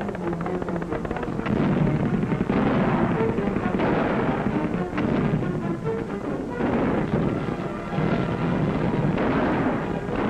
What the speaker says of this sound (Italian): Raffiche di mitraglia, salve di mortai e di cannoni contrastano l'attacco nemico.